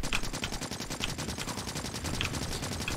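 Gun turrets in the Factorio Krastorio 2 game firing in rapid automatic bursts, a dense rattling stream of shots at moderate loudness lasting the whole stretch with no speech.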